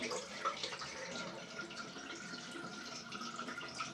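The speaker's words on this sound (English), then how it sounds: "Now, I'll just rinse my face" Water running steadily from a bathroom sink tap while a face is rinsed before a shave, a soft continuous splashing hiss, close and fairly quiet, with no talking.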